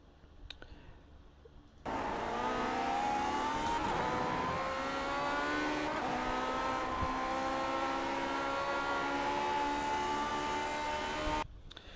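A Lotus 49 race car engine in the iRacing game at Silverstone holds a loud, steady high-revving wail for about ten seconds, its pitch rising and easing through gear changes, then cutting off abruptly.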